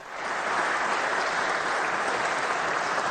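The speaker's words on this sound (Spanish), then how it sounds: "No se sabe qué aplauden, pero en fin." A live audience claps in sustained, dense applause that swells quickly and holds steady, a broad wash of many hands at a loud, even level throughout.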